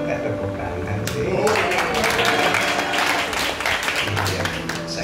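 Church congregation applauding during a service, a steady wash of clapping that swells and continues for several seconds with some voices mixed in.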